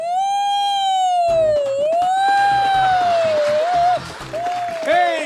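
A human voice mimics an ambulance siren, a loud wavering wail rising and falling, with clapping and other voices breaking in partway through.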